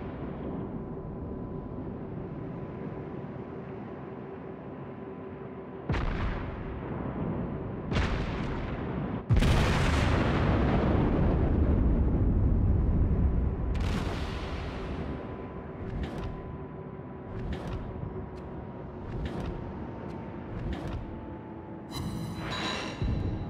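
Artillery fire support barrage in a video game: a series of heavy booms, one huge blast followed by a long rumbling roll, then several sharper distant impacts and a fast rattling burst near the end, over a steady low background hum.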